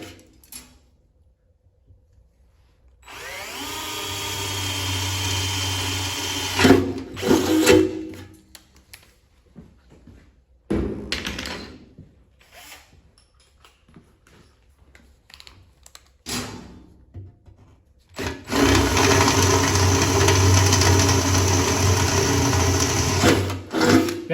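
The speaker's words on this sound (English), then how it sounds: "I'll go through with the 5/16 and drill it the second time" A power drill with a 5/16 bit whirs in two long sustained bursts drilling a hole while installing a SOLOBOX tool tray, separated by quieter clunks and handling noises; the second run is steadier and louder.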